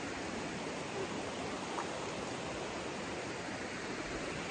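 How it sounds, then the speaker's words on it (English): Fires Creek in the North Carolina woods, its flowing water a constant, even rush with no talk over it. "This is Fires Creek."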